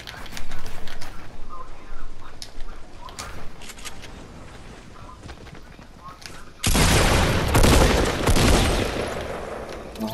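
Gunfire in Fortnite Battle Royale, scattered sharp shots early on, then a loud dense burst of rapid fire and explosive noise in the last few seconds.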